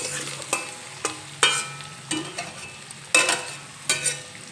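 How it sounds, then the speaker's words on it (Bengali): Vegetables frying in a pan are stirred with a utensil, giving a series of scraping, clattering strokes spread across a few seconds over a steady low sizzle, close and fairly clear with no talk. "একটু নেড়ে চেড়ে নেব।"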